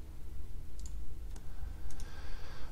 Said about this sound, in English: Okay, right clicking.